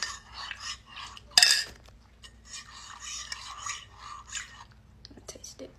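A spoon stirs honey into a drink, giving light scraping and clinking against the cup with a sharper clink near the start and soft, close handling noise.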